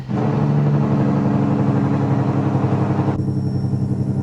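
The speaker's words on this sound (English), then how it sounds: "let's use some engine braking" Freightliner FLD truck engine braking in American Truck Simulator, a loud low, throbbing diesel drone that holds steady, then drops in tone near the end as the braking eases, with no talking.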